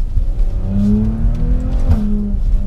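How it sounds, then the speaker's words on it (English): A Maserati SUV engine revs up in manual mode with a rising, throaty tone, holds, then drops slightly before climbing again, loud and close. "I'm still enjoying the characteristics of this engine note."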